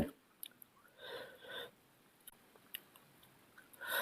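Someone eating raw beef koi salad with fresh vegetables, soft close-up chewing and moist mouth sounds in a few short bursts, quiet overall with small clicks in between.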